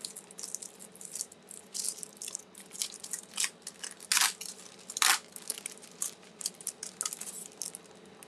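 Decorative paper for making Christmas cards is handled up close, producing irregular crinkling and rustling with a few sharper crackles and no voices.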